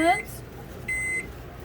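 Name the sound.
microwave oven running while drying stained paper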